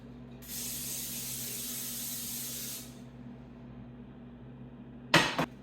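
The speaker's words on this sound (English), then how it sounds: "If you don't spray the pan, even a non-stick pan, your food will stick to it" A short burst of cooking oil spray onto a pan hisses for about two seconds over a low background hum, followed later by a brief clatter.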